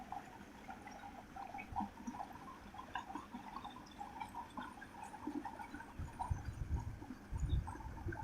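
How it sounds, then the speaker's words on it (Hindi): Water trickles faintly through a broken earthen embankment at a fish farm, with small irregular dribbling and gurgling sounds over a low outdoor rumble, and a slightly stronger spell of splashing near the end. "यहाँ से थोड़ा थोड़ा पानी आ रहा है।"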